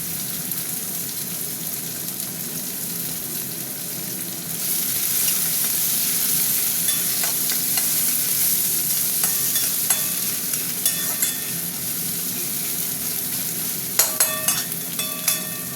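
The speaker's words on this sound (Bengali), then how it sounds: "পেঁয়াজটা একটু ভাজা ভাজা হোক।" Onions fry with five-spice in a pan, a steady close sizzle that swells louder after a few seconds, with scattered spatter crackles and a few utensil scrapes, no voices.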